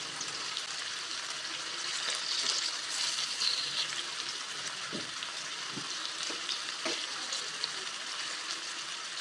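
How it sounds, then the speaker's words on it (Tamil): Chunks of elephant foot yam frying in hot oil for a tamarind curry, a steady close sizzle with faint crackles running throughout, no talking. "இந்த கிழங்கு உடஞ்சி போகாமல் இருக்கிறதுக்காக இப்படி எண்ணெயில் சேர்த்திருக்கேன்"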